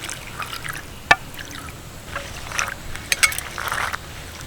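Shelled green peas are washed in a large bowl of water, making soft splashing and trickling with scattered drips and a few light clinks against the bowl, close by with no voices.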